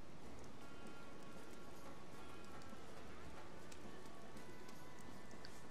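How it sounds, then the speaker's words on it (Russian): Steady rain falling in the video game Dreamfall: The Longest Journey, a soft, even patter of drops that stays fairly faint and continuous throughout. "я люблю, когда в игре дождь сделан так, что ты его прям чувствуешь"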